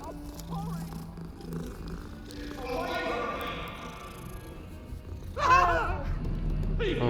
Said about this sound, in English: Oh, a cat. Got a pet every cat I see.